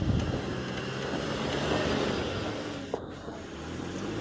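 A Toyota Prado SUV engine labours steadily while driving off-road, a constant low rumble with wind-like broadband noise and a brief knock near the end, no talk.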